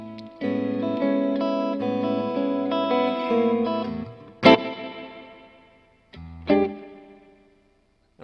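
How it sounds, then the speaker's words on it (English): Hollow body electric guitar played through an EarthQuaker Levitation reverb pedal, sustained chords ringing with a wide wash of reverb, then two sharp strummed hits that trail off into lingering echoes. "I'm kind of digging this Earthquaker reverb, Earthquaker levitation it's called, pedal."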